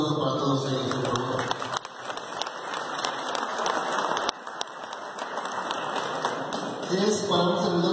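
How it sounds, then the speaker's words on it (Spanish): Audience applause at an outdoor municipal ceremony delivering solar water heaters in San Pablo Zitlaltepec, Tlaxcala, a dense patter of clapping under and between amplified speech, swelling slightly near the end. "a quien pido un fuerte aplauso para todos ellos, por favor"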